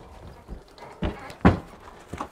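Horses stepping down out of a Fautras horse trailer, a few distinct hoof thuds on the ramp spaced about half a second apart, fairly close and clear with no talking.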